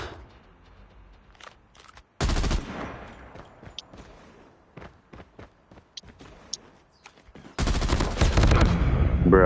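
Gunfire in a video game one-versus-one match: scattered single shots and short rapid bursts, with two loud sustained stretches of dense firing and quieter clicks and thuds in between.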